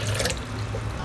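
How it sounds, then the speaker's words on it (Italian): Water is poured from a small jam jar into a blender, making a brief, close, steady splashing gush with no talking. "Riempiamo il vasetto di acqua per due volte. Uno e versiamo."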